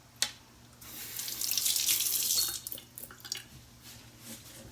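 Hot water runs from a kitchen tap into a sink while a warm hot chocolate elixir with dates is being prepared, a steady broadband rush building after a sharp start, then tapering into uneven splashes and drips, with no talking.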